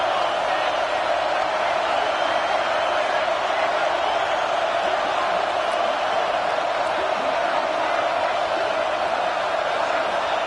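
A stadium crowd in an NCAA 26 college football video game roars steadily on a fourth down, a dense, continuous wash of cheering that stays loud and unbroken throughout.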